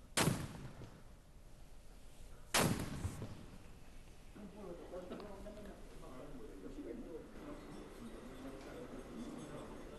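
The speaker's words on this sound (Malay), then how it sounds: "Diikuti dengan tembakan meriam sebanyak 17 das sebagai menandakan tanda diraja dan pertunangan diraja telah diterima." A royal cannon salute of 17 rounds at a royal engagement ceremony: two loud, sharp booms a few seconds apart, each with a rolling echo, followed by a lingering ambient rumble.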